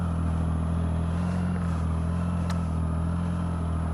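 A Triumph Speed Triple 1050 motorcycle rolls slowly round between cones on a training course, its engine a steady low throb at moderate level with a brief clatter midway, close and without talk.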